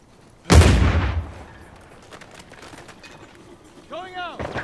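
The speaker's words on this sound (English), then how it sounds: "Oh, there's a grenade." A grenade explodes in Uncharted 4 multiplayer, a loud close boom that decays over about a second, followed by faint game effects and a short rising electronic tone.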